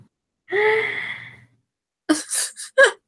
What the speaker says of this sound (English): I just had the most monumentous sneeze in the world